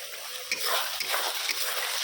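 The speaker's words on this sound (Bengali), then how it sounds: "আর এটা ভাজি হচ্ছে, একটু কষা কষা হচ্ছে, মশলাটা ভাজা ভাজা হচ্ছে।" Steady hissing sizzle of spices frying in hot mustard oil, with a few soft stirring scrapes and no voices.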